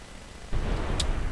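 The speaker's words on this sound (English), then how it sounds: "There's so many explosions everywhere." Low ambience in GTA San Andreas gives way to a sudden booming explosion, followed by sustained rumbling and a brief sharp crack a moment later.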